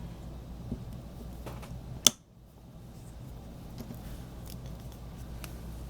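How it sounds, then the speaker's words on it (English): A single sharp snip of nippers cutting the metal shank off a button, close and crisp, followed by quiet background hum with a few faint ticks and no talking. "Now I'm going to cut this button shank off to make it flat. So I'll just get my nippers here."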